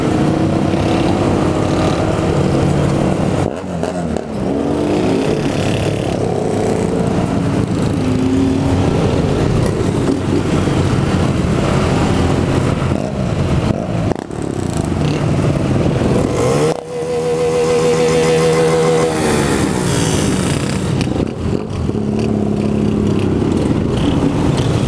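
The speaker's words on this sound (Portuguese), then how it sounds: "Olha o tanto de moto" Motorcycle engines drone loudly and continuously nearby, one after another roaring past in heavy traffic with rising and falling revs.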